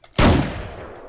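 A single revolver gunshot in the video game Unturned: a sharp, loud crack followed by a long, fading reverberant tail, heard alone.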